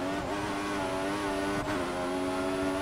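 Engine of an F1 race car in the 2014 Formula One racing video game, a steady high whining drone with harmonic layers, sustained and loud throughout, with a brief dip midway like a gear change.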